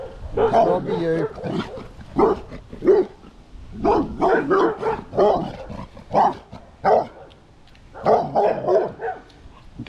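A dog barks in repeated short bursts, close and loud, interleaved with someone talking to it.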